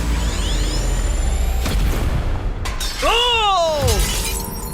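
In a trap challenge, a shot is fired and something shatters and breaks. There is a sharp crack with breaking debris, then a whooshing sweep and more crashing under a loud, busy background with brief vocal sounds.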